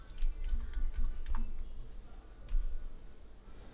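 Quick keystrokes tap on a computer keyboard, a short burst of close clicks followed by a few scattered taps.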